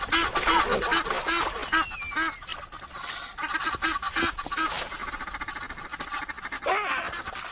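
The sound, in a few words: Egyptian geese calling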